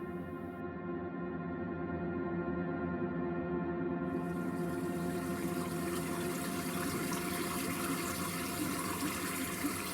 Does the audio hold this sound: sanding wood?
no